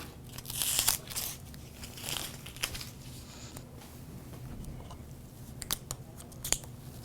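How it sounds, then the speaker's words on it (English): Stencil vinyl and masking tape peeled off etched glass, giving soft crinkly tearing and crackling bursts, louder near the start and fading to sparse quiet rustles and small ticks, with no talk. "remove all of the stencil and any masking tape"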